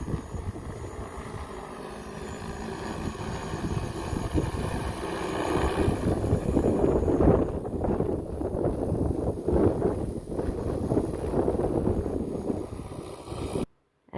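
A large drone flies on a windy day, its loud rotor whine swelling and fading with heavy microphone wind buffeting, ending abruptly.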